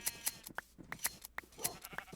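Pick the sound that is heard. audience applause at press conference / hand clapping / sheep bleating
sheep bleating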